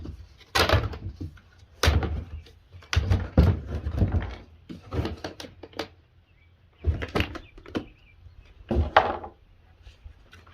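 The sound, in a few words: cracking open a plastic food storage bucket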